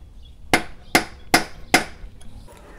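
A hammer strikes a RockShox suspension fork's lower leg four times in a steady rhythm, each a sharp, close knock, as the part is tapped loose during a 50-hour service.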